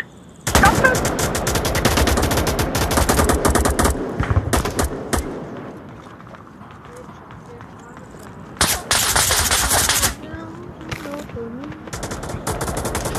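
Rapid machine-gun fire in bursts, loud and close, cracking in dense volleys, falling silent, then returning in another heavy burst and lighter scattered shots.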